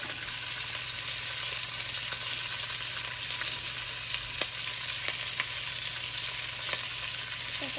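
Freshly flipped lamb chops sizzling steadily in a pan, a constant close frying hiss punctuated by occasional sharp pops of spitting fat, no talking.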